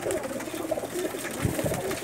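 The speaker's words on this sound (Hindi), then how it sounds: "टैडी कबूतरों का मैं शौक़ करा रहा हूँ, मिक्स मुख्तलिफ़ कलर में" Mixed-colour teddy pigeons coo softly and continuously in a loft, low murmuring calls close by with a faint background hum.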